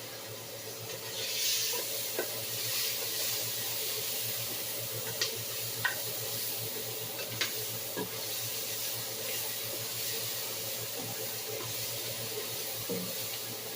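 An oxtail substitute sears with onions in a hot pan, giving a soft, continuous sizzle and hiss with a few faint clicks from stirring, and no voices.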